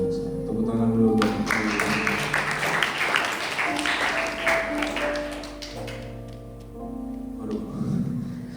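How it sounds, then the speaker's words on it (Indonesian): Applause from a teen youth gathering audience, steady clapping mixed with voices and background music tones, fading slightly near the end. "Tepuk tangan dulu buat"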